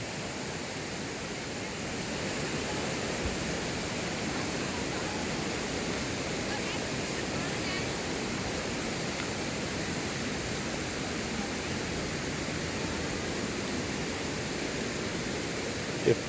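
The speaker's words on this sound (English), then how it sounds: "try to get a little angle of the waterfall without falling off the rocks" McGalliard Falls waterfall pours in a continuous, dense rushing roar heard from nearby rocks, a steady wash of water noise throughout with no break.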